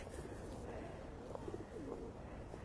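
Birds calling in the park at Buckingham Palace in February, where geese are nearby; a few soft, scattered calls and coos rise faintly over steady outdoor background noise.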